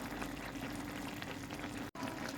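Kerala-style okra milk curry bubbling steadily in a pan, a continuous soft simmer with small popping bubbles close by, interrupted by a very brief silent break near the end.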